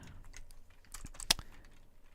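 Soft, sparse keyboard typing while practising Japanese input, a few scattered light key clicks with one sharper tap, faint and close in a quiet room.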